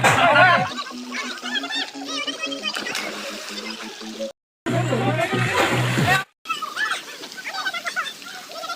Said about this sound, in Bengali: আবার সুইমিং পুলের পাশে এসে দেখি যে সকলে কিন্তু নেমে গেছে স্নান করার জন্য